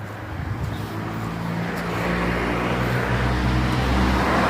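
A road vehicle passes with a low engine rumble and tyre roar that swells steadily louder, close and continuous, with no voices.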